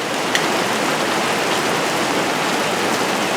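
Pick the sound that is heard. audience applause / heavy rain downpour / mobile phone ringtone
heavy rain downpour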